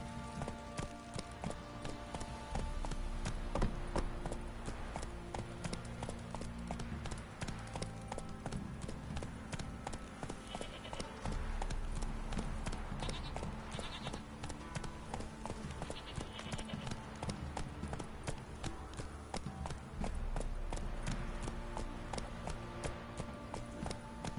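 Horse hooves gallop at a steady, rapid clip-clop rhythm throughout a Witcher 3 video game scene, loud and continuous over a game soundtrack and ambience, with brief voice in the background.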